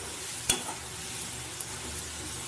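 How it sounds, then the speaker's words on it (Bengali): Mustard masala paste for a pabda fish curry being stirred in a pan, a soft continuous sizzle with one sharp spatula knock near the start and a lighter tap later, no talk. "এরকম করে সমানে নেড়ে দিতে হবে যাতে মশলাটা তলায় না ধরে যায়"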